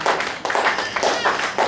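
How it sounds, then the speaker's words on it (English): Church congregation clapping during a sermon, a loud, sustained burst of many hands close up, with short pauses and renewed rounds of applause and some voices mixed in. "Clap for Jesus, somebody."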